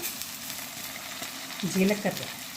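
Onions and garlic fry in a pan as garlic starts to brown, giving a steady low sizzle with a brief bubbling, stirring surge near the end, with no voices.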